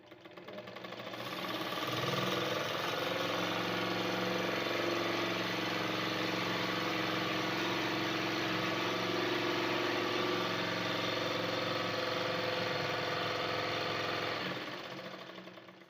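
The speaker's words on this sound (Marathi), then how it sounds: "आणि आता बघा मी बॉबिन भरते." A sewing machine winds thread onto a bobbin, giving a continuous steady mechanical whir that runs close and even for most of the stretch before stopping.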